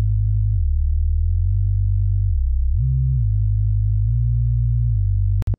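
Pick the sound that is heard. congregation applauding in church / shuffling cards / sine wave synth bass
sine wave synth bass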